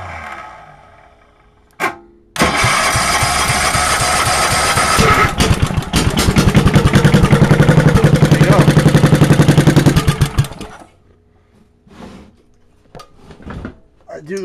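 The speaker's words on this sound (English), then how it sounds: "See if she'll idle." An engine on a cold start catches and runs loudly for about eight seconds, settling into a rough, pulsing idle before it cuts out, with scattered clunks and knocks around it.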